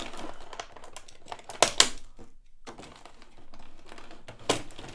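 Plastic ties and tape being pulled off a boxed collectible figure's packaging, with crinkly crackling and a few sharp snapping clicks, close by and in bursts.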